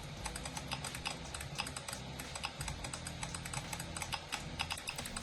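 Virtual mechanical keyboard with a normal click sound, rapid continuous typing with dense clicky keystrokes over a steady background hum, moderately quiet.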